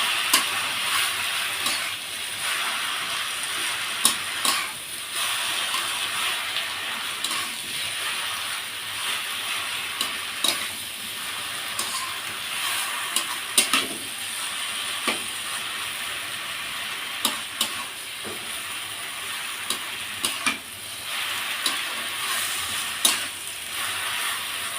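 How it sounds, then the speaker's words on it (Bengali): Jute leaves frying in a pan with turmeric, a soft continuous sizzle broken by repeated scraping clicks of a spatula stirring them, fairly quiet and close with no talking. "দেখুন আমার শাকটা বেশ ভাজা ভাজা হয়ে আসছে, আর একটু ভাজা হবে।"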